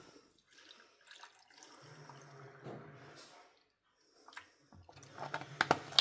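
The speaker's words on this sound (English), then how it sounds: "And then I fill it up with normal milk." Milk is poured into a jar over kefir grains, a soft, uneven liquid trickle and splash at close range, with light clinks and handling noises between pours.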